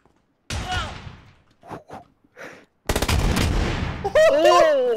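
Shotgun blasts in the battle royale game PUBG, a burst of loud rapid gunfire after sparse shorter bangs, with a voice speaking over part of it.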